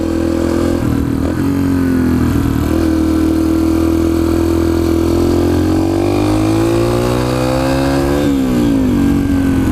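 A Yamaha TTR 125 dirt bike engine runs steadily and loud, its pitch dipping then climbing as the throttle is worked, with a sharper rev rise near the end.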